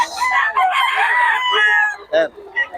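Stag roosters crowing close by, a loud drawn-out crow followed by shorter clucking calls, with a voice briefly audible.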